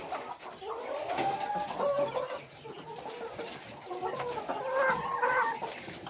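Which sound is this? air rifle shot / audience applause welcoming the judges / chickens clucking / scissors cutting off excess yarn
chickens clucking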